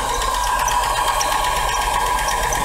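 A Buick engine with a suspected blown head gasket runs steadily close by, a continuous rough drone with a faint rapid ticking throughout and no voices.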